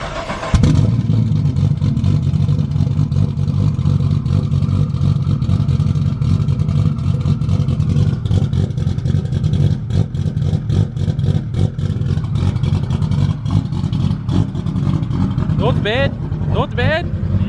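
A drift car's engine cranks and fires up, then idles roughly and revs in repeated bursts, loud and close throughout, with a voice speaking briefly near the end.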